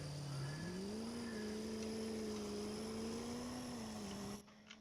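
A 2020 GMC Sierra AT4 Duramax pickup engine in Farming Simulator 22 hums at a steady pitch, rising slightly then holding, with a faint high whine above it before cutting off abruptly near the end.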